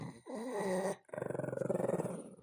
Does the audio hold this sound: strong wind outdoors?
no